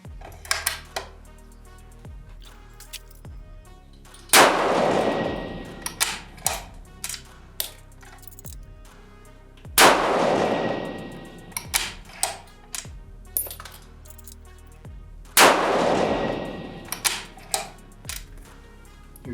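Three loud .308 Winchester rifle shots ring out during handloading tests, evenly spaced about five seconds apart, each a sharp crack with a ringing tail, between scattered light clicks and ticks of handling.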